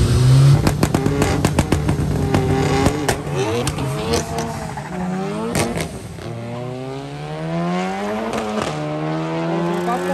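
VW Gol and VW Golf racing on a track, engines revving hard with rising and falling gear-shift sweeps, loud and close for the whole stretch, with faint crowd voices underneath.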